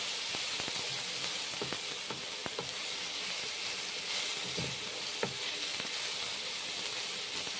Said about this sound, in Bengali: এখন বড়াগুলো দিয়েছি কড়াইয়ে, এই যে রান্না করছি বড়া দিয়ে পোস্ত।